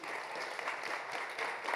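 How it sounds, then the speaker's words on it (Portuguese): An audience at a live human rights event breaks into steady applause, a dense, even clatter of many hands that holds for the whole stretch at a moderate distance. "uma salva de palmas também"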